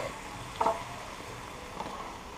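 Onions and garlic frying in a pot, a soft continuous sizzle with a couple of brief louder crackles, close and alone.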